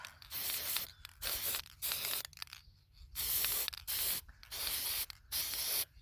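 Repeated bursts of spray paint hissing from a can, about eight short sprays separated by brief pauses, close and loud.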